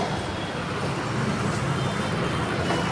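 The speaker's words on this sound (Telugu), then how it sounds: "చూడండి ఫ్రెండ్స్ ఎన్ని కార్లు." Dense road traffic with many cars makes a constant roar of engines and tyres close by, steady and unbroken throughout.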